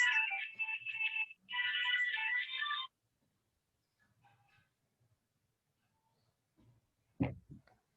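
A mobile phone rings with two bursts of electronic ringtone melody, fairly loud in a quiet room, then stops, followed by faint rustling and a brief bump.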